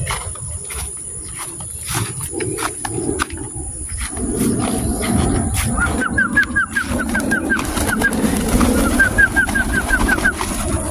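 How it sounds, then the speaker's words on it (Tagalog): Pigeons on a farm, with soft repeated calls over a busy outdoor background, the birds close and the sound steady but not loud. "Ayan na po yung ating mga kalapati."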